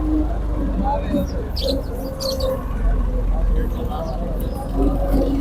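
Pigeons coo softly in the background at a pigeon market in Lahore while a person talks over them, with a few faint chirps mixed in.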